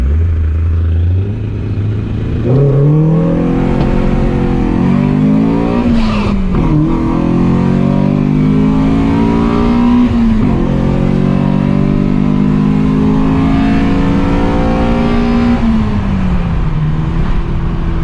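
Nissan S13 Silvia drag racing at a racetrack, its engine revving loud and near, climbing steadily in pitch through several gear shifts with brief drops between, a sustained accelerating roar.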